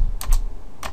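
Three quick, close clicks of keys on a computer keyboard, two together and then one after a short gap, in a quiet room.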